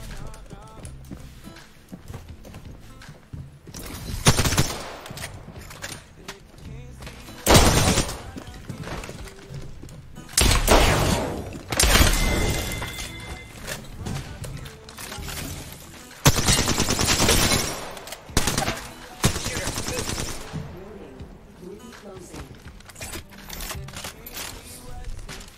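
Bursts of gunfire from the video game Apex Legends come in loud, scattered volleys separated by quieter gaps. Some bursts are rapid and automatic, others are single sharp shots.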